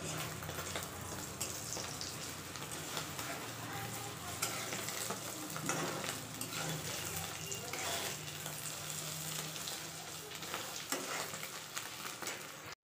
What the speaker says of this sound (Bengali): ডিমের একটা ফেটে গেছিলো, সেটা ডিমের অমলেট করে নিচ্ছি